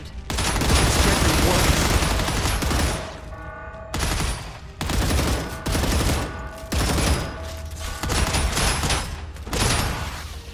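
Sustained rapid automatic gunfire from the video game StarRupture, loud and dense, coming in several long bursts separated by brief pauses.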